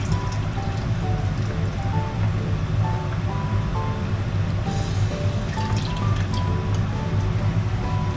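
Water drained off freshly grated daikon radish in a kitchen, a continuous close dripping and trickling that stays even and moderately loud throughout without pauses.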